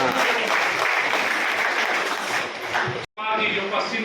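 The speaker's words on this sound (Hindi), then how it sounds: "ताली कमजोर है।" Sustained applause from an audience at a political rally in India, loud and steady, breaking off briefly near the end before resuming under a speaking voice.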